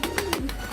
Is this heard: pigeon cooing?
yes